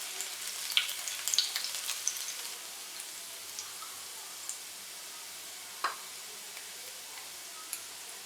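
Crushed garlic fries in a few tablespoons of oil in a kadai, giving a quiet, sparse crackle with a busier burst of spatter early on and then occasional isolated pops.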